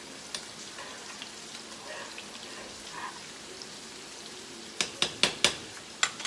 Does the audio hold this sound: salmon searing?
yes